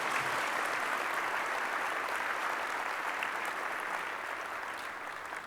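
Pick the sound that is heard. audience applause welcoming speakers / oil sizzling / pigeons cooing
audience applause welcoming speakers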